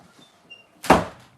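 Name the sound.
door being closed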